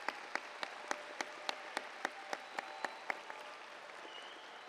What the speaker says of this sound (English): Let's all give a big round of applause to recognize all the accomplishments of this amazing group of